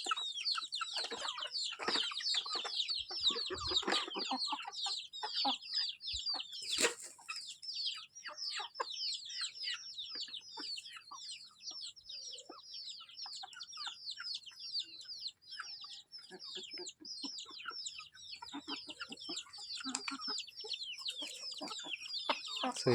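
Free-range desi chickens feeding on papaya on a farm cluck and chatter continuously in a dense, overlapping flock chorus, moderately close, with no talking.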